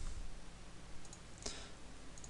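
A computer mouse clicking on a download link, heard as a few faint, sharp clicks over a low background hiss, with one clearer click near the middle.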